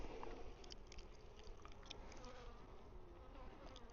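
Honey bees hum and buzz in a dense, continuous drone from an opened hive during an inspection, close by with small shifting pitches.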